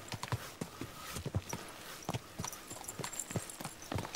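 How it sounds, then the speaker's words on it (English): Horse hooves clip-clop at a steady walking pace in Kingdom Come: Deliverance II, sharp knocks in an even rhythm over faint background ambience. "Easy, good horse."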